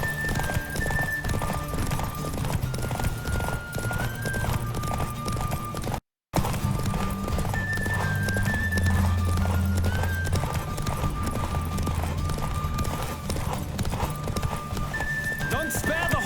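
Rapid hoofbeats from a galloping horse in The Witcher 3 pound steadily throughout, joined by neighs and game music, with a brief dropout near the middle.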